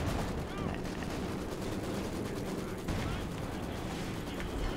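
Artillery fire and explosions rumble in the video game Company of Heroes, a steady barrage of heavy, close detonations and gunfire running throughout without pause.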